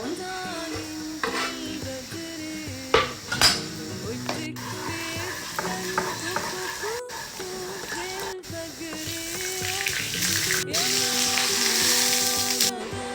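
Garlic frying in oil in a pan for Egyptian koshari sauce, a loud continuous sizzle crackling throughout, with faint clinks of a utensil against the pan and a few tonal kitchen noises underneath.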